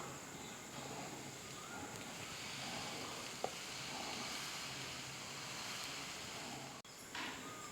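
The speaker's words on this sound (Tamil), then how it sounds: "இப்போ தோசை ஊற்றிக்கலாம்." Dosa batter poured onto a well-heated dosa griddle for podi dosa, giving a steady, broadband sizzle that holds evenly throughout with one brief sharp tick midway and a short dip near the end.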